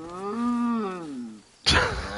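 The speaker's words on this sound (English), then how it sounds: "Oh my god, it's cows!" A single drawn-out cow moo in a video game, deep and wavering, followed by a sudden burst of noisy clatter.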